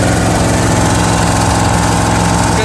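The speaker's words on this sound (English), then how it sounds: "fuel pump running?" An aftermarket fuel pump on an old project car, fed unregulated from a jump pack and plumbed with AN fittings, runs as a loud, steady mechanical buzz with a constant drone, close up and alone.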